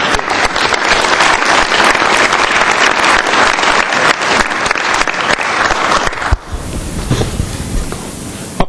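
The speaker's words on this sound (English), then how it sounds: "Let's give them a big round of applause." A council meeting audience breaks into loud, dense applause that holds for about six seconds, then drops off abruptly into a few scattered fading claps and room noise.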